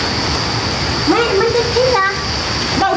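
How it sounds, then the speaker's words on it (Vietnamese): Rain falls steadily outdoors at a rural Vietnamese home as a constant close hiss, with people talking over it. "Mưa kìa."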